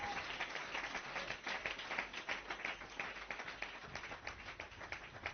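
A church congregation claps for a moment after a call for acclamation, a moderately distant, uneven patter of many hands with rhythmic pulses, continuing for several seconds without speech.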